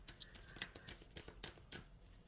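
Tarot cards being shuffled by hand in a quiet room, a series of soft, crisp riffling flicks and taps at an uneven rhythm, close and faint, with no voices.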